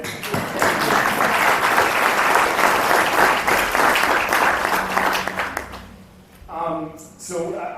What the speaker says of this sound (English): I like clapping in church